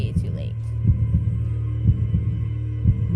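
Heavy thumping game heartbeat pounds steadily about once a second over a low continuous hum, with a brief electronic chirp at the start.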